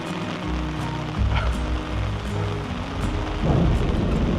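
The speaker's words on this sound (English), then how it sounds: "And I think that was some thunder as well." Heavy rain pours during a storm in Manila, a loud close wash with deep rumbling thunder rolling underneath and swelling near the end.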